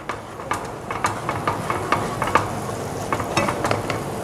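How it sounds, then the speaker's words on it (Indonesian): Chopped onion sautés in heated butter while a spoon stirs and scrapes in a quick, steady rhythm over a soft, continuous sizzle, close by with no talking. "panaskan ini butternya, kemudian kita masukkan cincangan onion ya"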